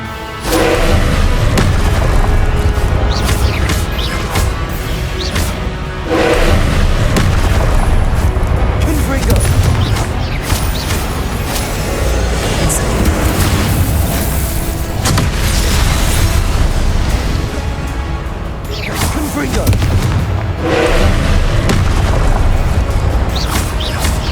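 Confringo spell explosions in Hogwarts Legacy booming repeatedly in heavy, close blasts over a dense, continuous game soundscape, with a voice calling out spell names between the impacts.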